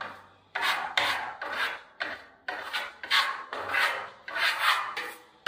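Spatula spreading marmorato stucco plaster over a white-painted wall, working into the corners: repeated rasping scrapes in short strokes, each about half a second, close and fairly loud with no talking.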